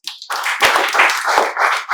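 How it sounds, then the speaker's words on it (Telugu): Students in a spoken English classroom burst into a short round of clapping, a dense patter of many hands close by that holds steady for about two seconds. "క్లాప్స్"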